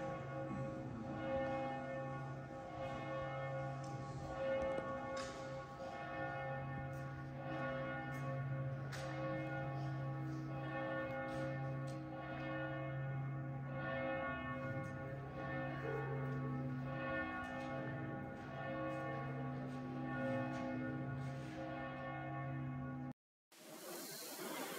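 Church bells ringing in Venice, a sustained peal of overlapping tolls with a rich, humming resonance, steady and fairly distant across the whole stretch before stopping abruptly near the end.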